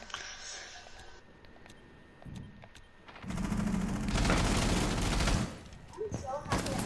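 Rapid bursts of gunfire in Rainbow Six Siege, with a few sharp isolated shots first, then a sustained loud volley of automatic fire mid-clip that cuts off, followed by scattered shots; faint chatter underneath.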